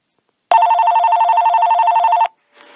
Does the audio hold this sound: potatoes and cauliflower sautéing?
no